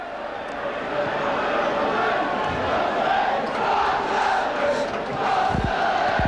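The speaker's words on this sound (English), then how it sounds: "You hear the Barnsley crowd, that's made them happy" A Barnsley football crowd in a stadium roars and chants after a goal in a 1991 cup match against Nottingham Forest, a broad sustained swell of voices heard from a distance, with a commentator speaking over it.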